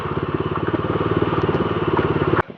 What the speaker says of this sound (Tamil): வண்டி ஓட்டு போயிட்டு இருக்குது